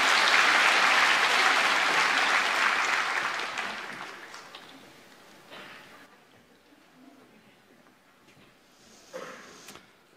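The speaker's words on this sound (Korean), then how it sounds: "우리 박수로 이 아이를 축복합니다." A church congregation at a Sunday service claps to bless a child, a loud sustained burst that gradually fades out, followed by a few faint knocks and rustles.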